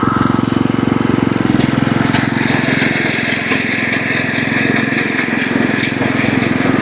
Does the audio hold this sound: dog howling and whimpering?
no